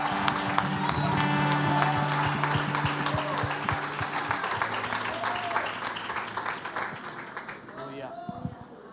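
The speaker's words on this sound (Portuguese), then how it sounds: "Você pode aplaudir ao Senhor" A church congregation applauds during a worship service, a dense stretch of steady clapping with a voice talking over it, the applause thinning out toward the end.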